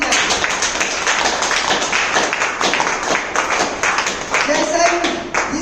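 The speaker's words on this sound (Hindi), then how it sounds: "एक जबरदस्त ताली होनी चाहिए।" Dense, steady clapping from an audience at a DXN training meeting fills the whole stretch, loud and continuous, with voices mixed in underneath.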